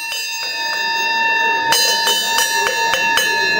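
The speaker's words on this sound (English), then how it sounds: "That's our Kiwanis bell that we start our meetings with." Kiwanis club meeting bell struck repeatedly at a Palm Springs club gathering, bright ringing strikes in an irregular series of about eight, with the tone sustaining and layering loudly between hits.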